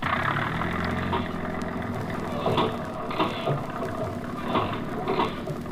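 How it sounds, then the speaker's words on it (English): A radio drama sound effect of a motor vehicle engine running at idle gives a steady, continuous rumble with slight pulsing throughout. "Start that engine."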